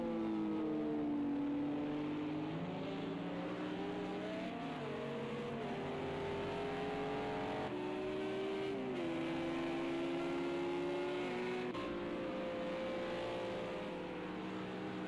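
GT3 and LMP1 race cars lapping the Algarve circuit in Project Cars 2, engines droning and shifting pitch as they climb through the gears, a steady mechanical roar with no talking.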